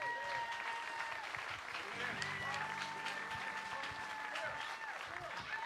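Audience applause at a New Year's Eve country music Opry show, loud dense clapping from a crowd that carries on steadily while music plays underneath and voices sound over it.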